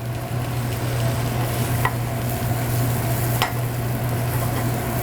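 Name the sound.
vegetables sautéing in a hot pan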